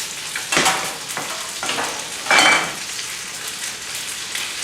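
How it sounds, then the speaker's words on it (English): Pastiera batter hits a hot pan with sharp bursts of sizzling and frying crackle, several surges as it is poured and spread, close and steady with no voices. "you just pour it into the pan. And you can hear that sizzle"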